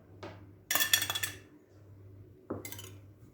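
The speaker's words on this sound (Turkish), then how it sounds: "Karıştıralım yavaş yavaş." A metal utensil scrapes and clinks against a bowl while stirring wheat starch into a mixture, a few quiet separate clatters with silence between them and no talk.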